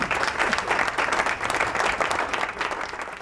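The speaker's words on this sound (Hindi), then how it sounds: "तालियां हो जाएंगी इनके लिए।" A studio audience at a Ramadan television quiz show applauds a correct answer with steady, dense clapping throughout.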